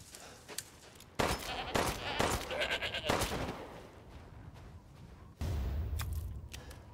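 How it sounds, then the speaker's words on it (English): A goat bleats in Resident Evil Village amid loud game sounds, with sharp bursts resembling gunfire and clattering effects around it and a rumbling layer near the end. "there's a goat here?"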